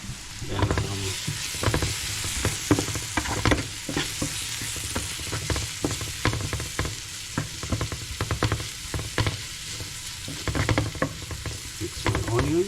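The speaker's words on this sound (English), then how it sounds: "mix my onions so they burn a little bit brown" Onions sizzle and fry in a pan while being stirred, with steady crackling and frequent scraping strokes of a utensil, close and fairly loud throughout, with no talking.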